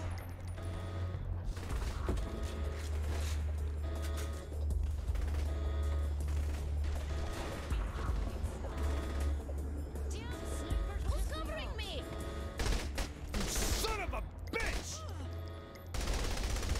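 Rapid bursts of gunfire from Saints Row: The Third, with automatic fire and single shots crackling almost continuously over a low rumbling game soundtrack, while voices talk throughout.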